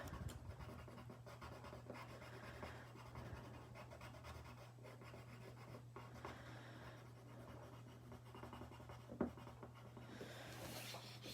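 A light gray pencil colors a cassette tape in a drawing, giving quiet, continuous scratchy strokes at close range with a faint low hum underneath and one small knock near the end.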